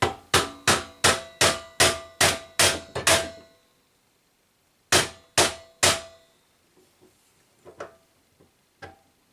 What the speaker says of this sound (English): Either with a rubber mallet or a piece of wood, you hammer this home gently.